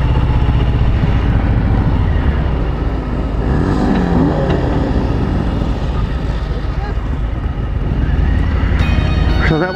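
A 2018 Harley-Davidson Street Bob motorcycle is ridden, its low, heavy engine rumble droning steadily under constant wind buffeting, with a voice briefly audible.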